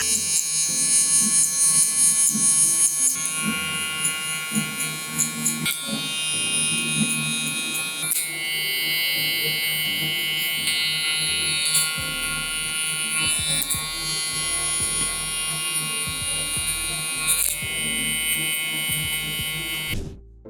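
Electric hair clippers with guards fading a taper haircut, a continuous close buzzing hum with slight shifts in pitch as the blade moves through hair.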